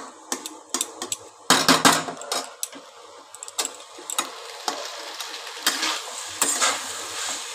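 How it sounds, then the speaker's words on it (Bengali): Pasta being stirred and tossed with vegetables in a pan, heard as a run of irregular clinks and scrapes of a utensil against the pan under faint sizzling, with no talking. "ভালো করে নেড়ে নিচ্ছি পাস্তাটাকে। দেখো ভালোভাবে সব সবজির সাথে পাস্তাটাকে মিশিয়ে দিচ্ছি।"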